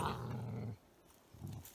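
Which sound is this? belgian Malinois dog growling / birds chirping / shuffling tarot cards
belgian Malinois dog growling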